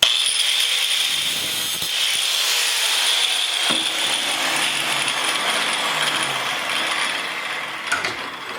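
A 1/4 inch round steel bar being cut in half: a continuous, loud, harsh grinding whine runs steadily through the whole stretch with only slight variation.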